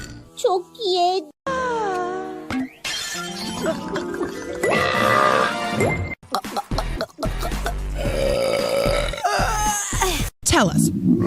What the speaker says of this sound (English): You just won the burping contest, too!